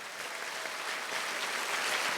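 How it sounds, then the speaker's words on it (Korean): Steady applause from a church festival congregation, dense and even throughout, moderately loud with no voices breaking through. "박수 한번 쳐주세요"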